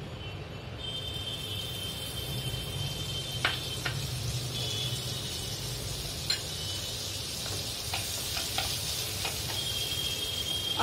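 Butter sizzling in a kadhai, a soft steady hiss that holds evenly throughout, with a few faint clinks and taps of a utensil and no voices.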